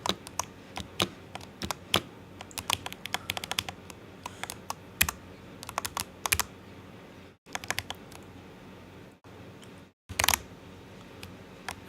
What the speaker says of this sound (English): That's how it is with the keyboard, as you can see. Like, sounds really nice.